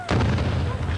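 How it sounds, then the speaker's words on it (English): Noonday cannon fired at a citadel, a single heavy boom that bursts out sharply and then rumbles and echoes low for the rest of the moment. "Friday, after the noonday cannon,"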